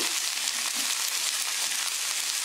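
Eggs added to a wok of hot oil with garlic sprouts, frying with a continuous close sizzle and faint stirring scrapes, no voices.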